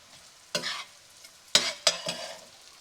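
Onion and garlic hit a hot pan for a Cajun seafood boil, giving three or four sharp bursts of sizzle and scraping with short quiet gaps between them, close and clear with no talking.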